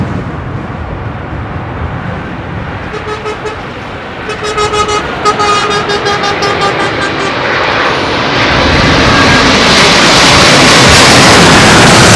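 A heavy airliner lands in a gusty southwesterly crosswind on runway 27L at London Heathrow, a loud, steady engine roar with whining tones that grows toward a broad rushing blast, heard close and alone.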